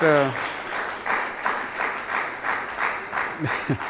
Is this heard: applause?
yes